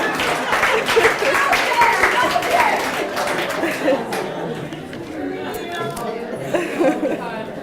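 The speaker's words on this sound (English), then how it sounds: "They're cheering for me. Oh, that's cheering." Crowd cheering and clapping, a loud mix of applause, laughter and chatter that swells early and eases off toward the end, with voices mingled throughout.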